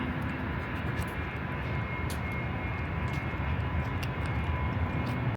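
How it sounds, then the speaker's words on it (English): An airplane engine drones in flight on a trip headed to San Diego, a steady loud broadband roar heard from inside the cabin without any talking. "I'm gonna jump in the plane"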